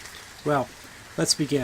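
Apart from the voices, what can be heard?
rain falling outside on a chilly evening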